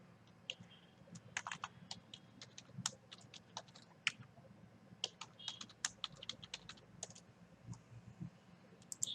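Someone types a password on a computer keyboard in a quiet room, with sharp, irregular clicking keystrokes in short bursts over a low steady hum.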